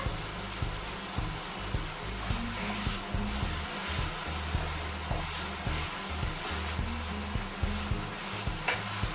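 Egg burj mixture stirred in a hot pan, a continuous sizzle with rhythmic scraping strokes of a spoon repeating roughly every second, fairly quiet and steady throughout.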